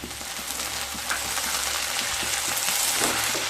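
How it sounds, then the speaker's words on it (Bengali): Onions frying with tomatoes in a pan give a steady, dense, close sizzle that crackles evenly throughout with no voices. "পেঁয়াজগুলোকে হালকা ভেজে নেব।"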